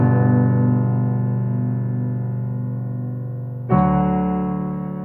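Sustained piano chords ring out alone, one long held chord fading slowly before a new chord is struck near the end.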